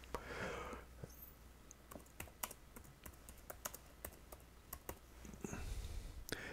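Keystrokes on a computer keyboard while adding text in Affinity Designer, a quick irregular run of sharp clicks and taps, close and fairly quiet, with no talking.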